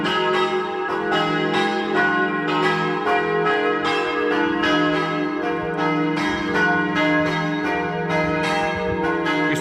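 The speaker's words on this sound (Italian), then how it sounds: "il suono melodioso delle campane che ci invitano alla preghiera" Several church bells of the church at Torlano, Friuli, peal continuously in an overlapping, rhythmic clang, ringing full and resonant with a steady hum beneath.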